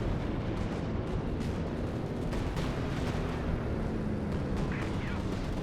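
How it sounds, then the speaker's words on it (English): A sector artillery barrage rumbles in Company of Heroes 2 during a 4v4 match on La Gleize, with dense continuous booms and distant explosions layered over faint battlefield noise. "We have artillery, though, coming on in from, I think,"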